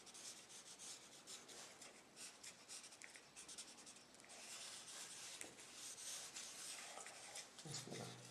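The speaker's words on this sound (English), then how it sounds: "I shouldn't be rubbing out at this stage" An eraser rubbing out a pencil drawing: continuous close scratchy scrubbing strokes that rise and fall in a steady back-and-forth rhythm, quiet and alone with no talking.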